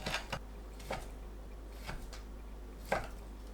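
A knife cutting ham into thin strips on a cutting board, a few soft, separate chopping taps spaced irregularly, faint and close with no talk.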